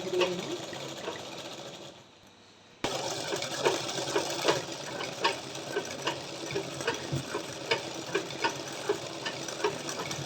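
A machine embroidery unit stitching a petal outline, its motor running in a steady rapid chatter with regular soft thumps, briefly dropping quiet before resuming close and continuous.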